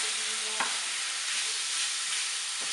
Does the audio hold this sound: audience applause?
no